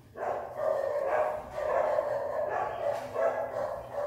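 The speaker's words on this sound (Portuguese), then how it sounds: "esses cachorros começam a latir." Dogs bark repeatedly in the distance, a continuous run of muffled woofs and yips with no talking.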